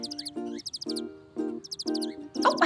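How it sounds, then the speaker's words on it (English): Bird chirps and tweets repeat in quick bursts, clear and fairly close, with pauses between phrases and a busier flurry of calls at the end; no talking. "Do you like the sound of those birds"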